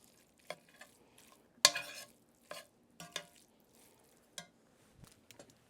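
A spoon stirs Hendo's relish into cooked meat in a pan, giving sparse, close scraping and wet squishing strokes with quiet gaps and a light sizzle between them.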